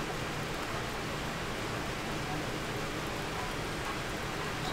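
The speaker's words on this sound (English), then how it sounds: "Hey, it's raining." Rain falling in a Minecraft TerraFirmaCraft modpack game, a steady, even hiss of rainfall with no breaks, alone without talk.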